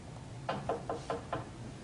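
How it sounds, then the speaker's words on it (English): Five evenly spaced knocks on a door, moderately loud against a quiet background hum. "Whence is that knocking?"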